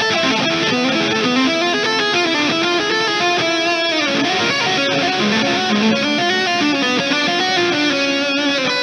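Distorted electric guitar amp tone from a Neural Amp Modeler capture running in Reaper, playing a dense, loud riff with sustained chords and moving notes throughout, no talking.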